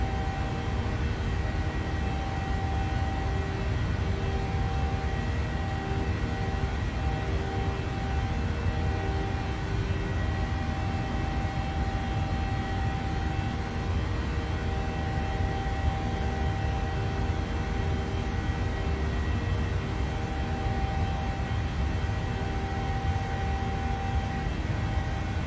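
Jet engines of a PMDG 737-800 at takeoff power in Microsoft Flight Simulator give a steady, loud, unbroken roar with a faint tonal whine that holds throughout.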